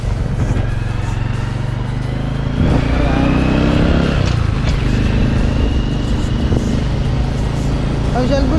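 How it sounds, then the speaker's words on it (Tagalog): A motorcycle passes nearby on a Philippine road, its engine swelling loudly midway and then easing off, heard over a steady vehicle drone with some voices talking. "Ay, si Albert yun, nagmotor-motor"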